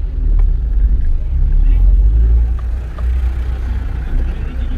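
Traffic on a busy two-way street in São João da Ponte, Minas Gerais, with a steady, loud low engine rumble and the drone of nearby cars passing, continuous throughout.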